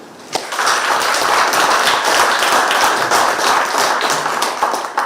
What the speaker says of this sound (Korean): 여기서 박수 한번 쳐주십시오